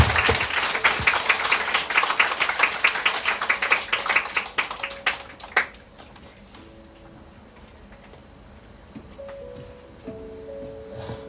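An audience at a 2022 church summer retreat applauds the people who gave testimonies. The loud, dense clapping lasts about five seconds, then dies away into a quiet room with faint tones.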